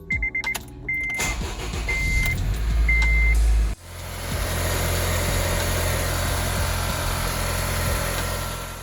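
A 2011 Acura RDX engine cranks and catches, then settles into a steady, loud idle that runs on alone after the start, with a few faint tool clicks beforehand.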